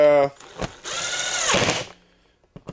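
Screws being driven tight into a homemade wooden pocket hole jig, a short burst from a power driver with a whirring, grinding spin, followed by brief clicks and a voice.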